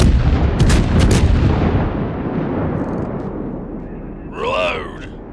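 Ship cannons fire in a heavy, booming burst that rolls off into a long fading rumble, and a voice shouts over the tail of it.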